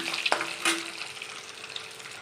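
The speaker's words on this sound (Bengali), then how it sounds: "গরম তেলে ডিমগুলো ভাজতে দিয়েছি" Eggs frying in hot oil in a pan give a steady crackling sizzle with a couple of sharp spatter pops early on, close and continuous with no talking.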